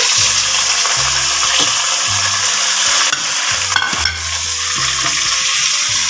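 Ground spices (turmeric and crushed red chilli) hitting hot oil for an old Delhi-style mixed vegetable dish, a steady loud sizzle running throughout with low tonal music underneath and brief scraping at points.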